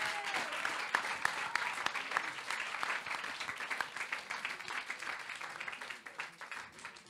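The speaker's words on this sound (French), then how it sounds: "On peut l'applaudir très fort." Steady applause from an audience at an evening awards ceremony, many hands clapping continuously at a moderate distance, thinning slightly toward the end.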